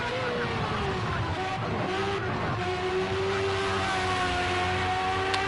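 V8 race cars in an F1-style racing video game at a British GP, engines droning loudly and continuously with rising and falling pitch as they pass, a faint voice now and then underneath.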